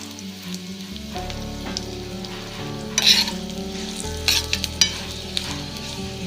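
Poppy seeds fry in a pan for a sweet dish, giving a continuous close sizzle with a few sharp stirring scrapes and clinks against the metal.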